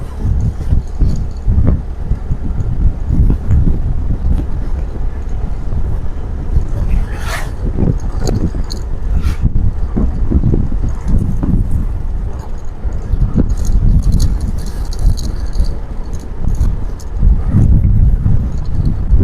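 Strong wind buffets the microphone in a continuous low roar during rainy weather, with gusts rising and falling and occasional sharper bursts throughout.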